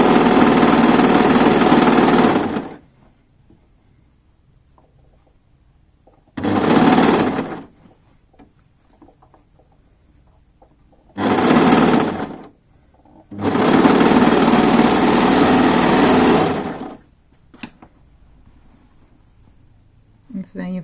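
A sewing machine stitches a seam on an easy knit jumper, running loud and close in four bursts of whirring, one short and three longer, separated by quiet pauses.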